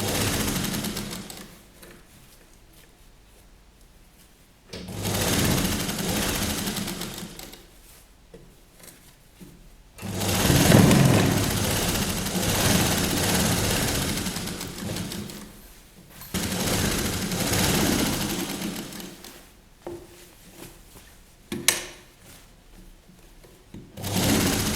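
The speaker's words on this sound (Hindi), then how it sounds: "अब हम एकदम यहाँ किनारे नीचे की तरफ सिलाई लगा लेंगे।" A sewing machine stitches along a folded fabric edge on a child's Patiala dress, running in several loud bursts of rapid chattering with quieter pauses between them.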